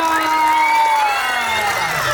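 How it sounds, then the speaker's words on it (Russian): An outdoor crowd at a park celebration in Znamenskoye cheers and claps, a loud continuous roar with whoops and a sustained high cry drifting over it, no pauses throughout. "Аплодисменты, друзья!"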